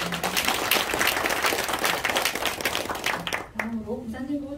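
Audience applause fills a ceremony hall, steady dense clapping from many hands that fades out near the end as a voice begins speaking.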